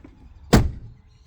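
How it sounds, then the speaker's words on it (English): A door swings shut with a single loud thunk near the middle, then quiet before a faint knock at the end. "Now time to close the door."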